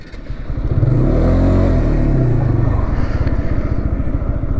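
TVS Apache 160 2V and 4V motorcycles roar off in a drag race, engines revving hard and climbing through gears, loud and close for the whole stretch.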